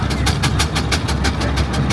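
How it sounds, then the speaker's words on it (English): The Busy Bee showman's steam traction engine works steadily at a vintage steam rally, a loud, close, rhythmic chuffing beat of about five puffs per second over a deep mechanical rumble. "Gorgeous showman's engine."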